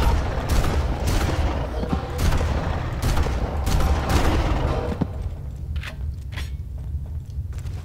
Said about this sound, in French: Ce sont des grenades flash.